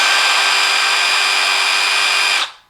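A Milwaukee M12 FUEL 1/4-inch hex impact driver spins a bit at its highest speed, giving a loud, steady high-pitched whine that holds evenly and then cuts off, winding down quickly at the end.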